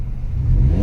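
A Hyundai i10 Grand engine revs as the throttle is opened, giving a steady, close, low rumble that swells slightly louder toward the end.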